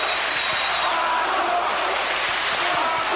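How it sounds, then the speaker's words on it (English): A large boxing arena crowd roars and chants for Arthur Abraham, a dense, loud, sustained wall of voices that fills the hall throughout. "The crowd chanting for Arthur Abraham on the white trunks."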